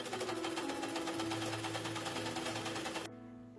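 Sewing machine stitching cloth for a table runner, a fast, even mechanical whir with a rapid needle rhythm that runs steadily up close, then abruptly stops near the end.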